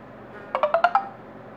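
A second phone rings nearby in a quick burst of five bright electronic tones, moderately loud against a quiet background, while a Zopo ZP980 Ultimate Edition smartphone is being reviewed.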